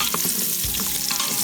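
Vegetables brown in a pan still holding the juices from a beef pot roast: a loud, close sizzle broken by the scrape and clatter of a utensil stirring them.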